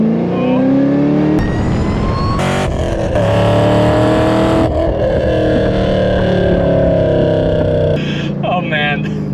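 A Camaro ZL1 accelerates hard with the engine note climbing loudly, shifts and surges again, then eases off under braking; the roaring engine stays close and dominant throughout.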